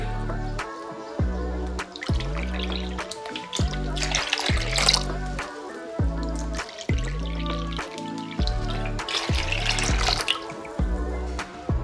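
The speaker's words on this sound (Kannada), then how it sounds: "ಇದೇ ಕಪ್ಪಲ್ಲಿ ನೀರು ಹಾಕೊಂಡು 3 ಕಪ್ ಆಗೋಷ್ಟು ನೀರು ಹಾಕೋತಾ ಇದ್ದೀನಿ" Water is poured from a cup into curd in a cooking pot for curd upma, filling about three cups' worth in a series of close, repeated glugging splashes.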